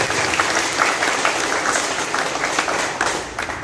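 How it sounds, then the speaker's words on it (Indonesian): An audience claps steadily in sustained applause for a team at a provincial PKK evaluation event, a dense, even wash of many hands that runs throughout. "Kita berikan lagi sekali lagi aplaus kepada tim."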